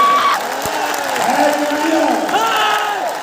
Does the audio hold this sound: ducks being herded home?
no